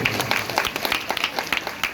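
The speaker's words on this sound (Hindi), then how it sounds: "जोरदार ताली प्रभु के लिए।" An audience claps steadily together at a Bhagwat Katha religious gathering, a dense, continuous round of applause that is fairly loud and close, with no speech over it.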